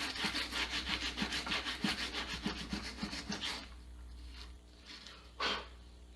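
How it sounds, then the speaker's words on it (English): Sandpaper is rubbed back and forth over a wooden block in quick, rhythmic close strokes, followed by a pause and a few isolated scrapes. "take a piece of sandpaper and go ahead and just smooth that out."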